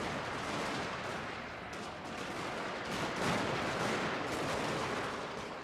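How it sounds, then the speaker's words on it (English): Artillery cannons fire in a Shogun 2: Fall of the Samurai battle, heard as a continuous dense rumble of distant booms and gunfire that swells midway without clear separate shots. "Alright, the artillery finally opened up."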